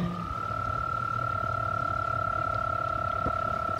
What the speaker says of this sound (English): It's the mating call of the toads.